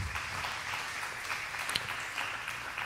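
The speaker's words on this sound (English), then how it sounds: "you can clap for that" Audience applause at a synagogue Rosh Chodesh service, a steady, even wash of clapping that holds at moderate loudness for about three seconds with no voices over it.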